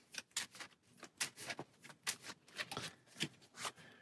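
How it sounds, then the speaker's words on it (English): Cards for the Dice Throne Adventures board game are shuffled up close, a rapid series of crisp riffling snaps and soft flicks in an uneven rhythm, quiet and with no voices. "Give them a quick shuffle"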